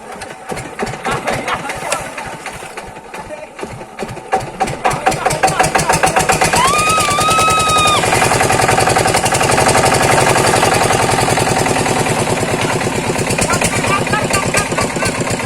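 A diesel engine with water inside and its air cleaner fallen off cranks roughly, then catches around midway into a loud, steady, rapid knocking run, with a brief whine partway through and voices mixed in.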